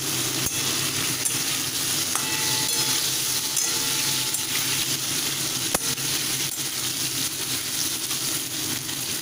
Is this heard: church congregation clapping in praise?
no